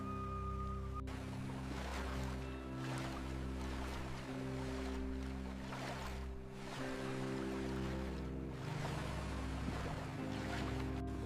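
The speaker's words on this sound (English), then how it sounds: "Water tapping lightly." Light water lapping around a small rowed boat at sea at night amid drifting debris, a soft steady wash with low rumbling beneath, continuous and fairly close.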